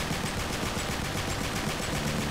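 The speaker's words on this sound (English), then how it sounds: "So if I shoot the AK" Rapid automatic AK-47 fire in the video game Uncharted, a dense and steady stream of shots that blurs into one continuous rattle for the whole clip, moderately loud.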